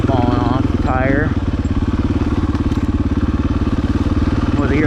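A dirt motorcycle on knobby tires, the knobs coming loose, rumbles steadily up close with a pulsing engine note, while a voice talks over it and rises and falls through the ride.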